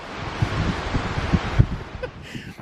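Strong wind buffets the microphone at the Bumpass Hell geothermal area, a steady broadband roar with rumbling low gusts and a few sharper thumps, loud and close throughout.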